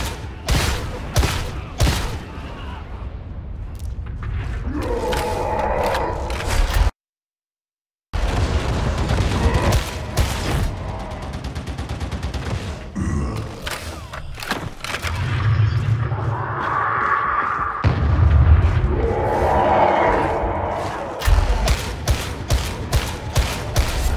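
A sustained volley of gunfire in Warhammer 40,000: Darktide, with rapid overlapping shots, heavy booms and explosions rolling on loudly for many seconds, broken by one brief silent gap.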